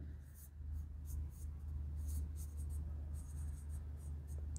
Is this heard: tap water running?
no